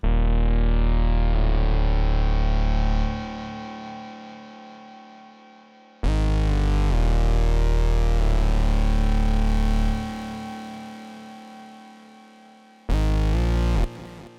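Heavy, distorted synth chords blare in long sustained blocks, each held for a few seconds and then fading, with a short final burst.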